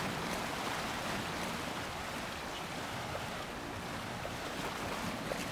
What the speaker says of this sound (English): here's a little peek at the wave action we've got going on